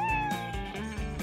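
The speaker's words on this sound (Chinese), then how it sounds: "小猫被困在树上了" A kitten stuck up in a tree meows in a single clear, fairly loud, drawn-out cry with a few pitch dips, heard alone at close range.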